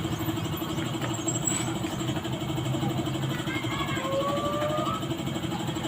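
A repaired Yamaha Sniper 155 motorcycle engine runs steadily at idle, its even mechanical hum and rattle close and continuous, with faint whining tones drifting above.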